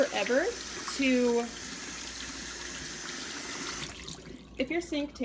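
Hot water gushes steadily from a sink tap as a broad hiss, with a few brief voices over it before the flow stops near the end.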